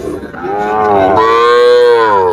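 A cow lets out a long, loud, drawn-out moo close by, rising and holding steady for a couple of seconds.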